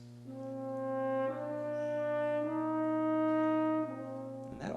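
Orchestral strings play the same slow tune with its third note lowered into a minor key, long soft held notes shifting every second, no one speaking.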